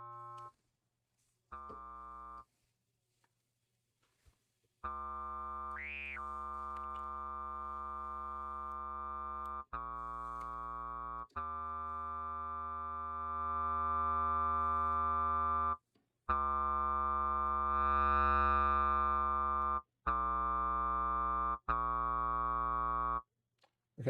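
A VCV Rack synth oscillator, an Instruo Ts-L, voiced as a sub-oscillator one octave down, plays a run of sustained harmonic notes with short gaps between them, loud and alone, with a deep low end.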